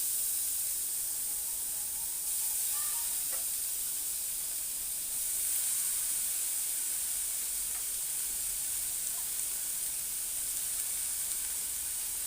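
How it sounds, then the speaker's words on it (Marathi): A steady, soft hiss of finely chopped onion sizzling in hot oil in a kadai continues throughout, with faint occasional clinks. "आता त्याच कढईमध्ये मी हे बारीक चिरलेला कांदा घालणार आहे"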